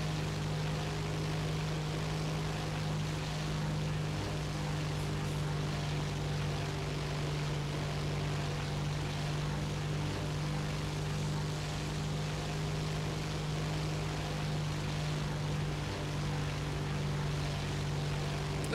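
A propeller fighter plane's engine drones steadily in the War Thunder flight game, a constant loud, even hum that holds for the whole stretch with no talk.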